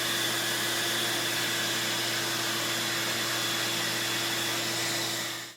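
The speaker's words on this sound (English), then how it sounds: "That Festool CT vacuum is sure noisy." A Festool CT shop vacuum runs in a woodworking shop, a loud, steady roaring whoosh with a constant motor hum that holds without change and then cuts off at the very end.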